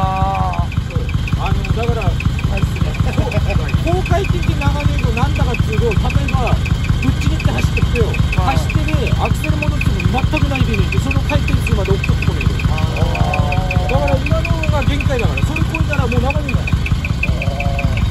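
Car engine with a split exhaust manifold idling, a steady loud throb with a fast, even popping pulse, running on alone for the whole stretch.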